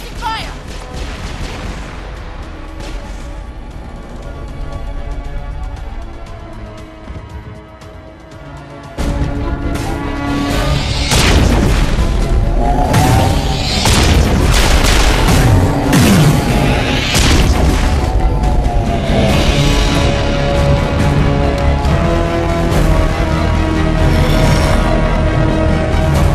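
Suppressing gunfire and heavy booms in the Mass Effect Virmire battle, bursts of weapon fire and explosions that grow louder and denser partway through, layered with game music and faint voices.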